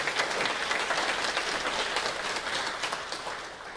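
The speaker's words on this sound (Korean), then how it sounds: "그분들에게 대해서 한번 박수 한번 주시기 바랍니다." An audience at a memorial prayer gathering for veterans claps together in a dense, steady round of applause that eases slightly toward the end.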